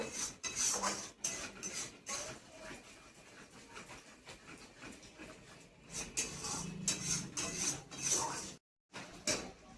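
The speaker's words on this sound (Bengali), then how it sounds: "না মশলাটা ভালোভাবে কষিয়ে নেব" A spice masala paste, cooked without turmeric for a spicy sea-fish curry, is stir-fried in a pan. Steady hissing sizzle runs throughout with repeated scraping and clattering strokes, close and fairly loud, and a brief silent gap near the end.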